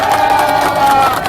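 Outdoor political rally crowd cheering and clapping in a loud, dense burst for the police officers on guard, shouts mixed into the steady roar.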